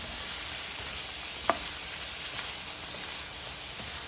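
Chayote and mussels cooking in a pan, with a steady, even sizzle and frying hiss throughout and a single brief clink of a utensil partway through.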